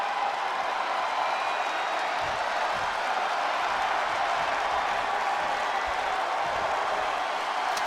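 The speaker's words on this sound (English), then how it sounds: "the crowd is starting to come to their feet" A video game crowd in WWE 2K20 at a Tables, Ladders and Chairs event cheers and applauds in a continuous, dense roar, loud and unbroken from start to finish.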